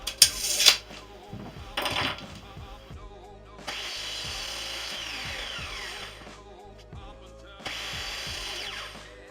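A power saw cuts wooden sections for a made-to-measure wardrobe column, giving loud bursts of sawing with sustained high-pitched runs between short tool spurts and pauses, close and with no talking.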